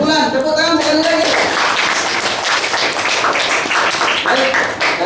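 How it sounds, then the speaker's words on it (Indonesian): Schoolchildren clapping together in a classroom during a lesson on static electricity, a dense burst of hand claps filling the room right after a teacher's voice, continuing steadily to the end. "Tepuk tangan sekali lagi."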